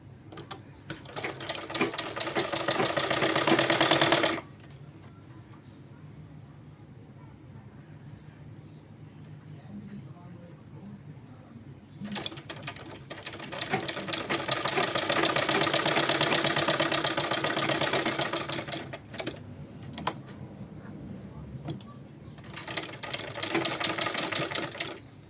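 A sewing machine stitches a child's kurta in several loud, close runs of rapid mechanical clatter separated by quieter pauses with someone talking.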